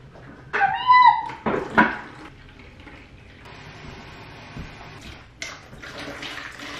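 Water poured to refill a pet's water bowl in a home, with a few close clattering handling knocks and splashes early on, followed by quieter running water and faint household noise; no talking.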